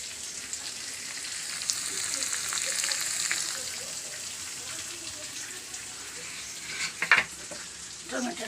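Chopped tomatoes frying in a pan with spices, giving a steady soft sizzle with light stirring and a few sharper spatters near the end.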